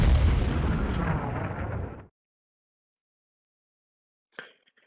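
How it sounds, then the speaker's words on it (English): An artillery bombardment from the hex-based war strategy game Hex of Steel: a loud, rumbling blast lasting about two seconds cuts off abruptly, then a short sharp pop follows after silence. "Gonna bombard this."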